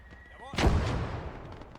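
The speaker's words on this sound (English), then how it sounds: "Now you hear that mortar?" A mortar fires in the WWII game Gates of Hell: Ostfront, a single sharp, booming blast that decays into a rumbling tail, with brief faint sounds just before it.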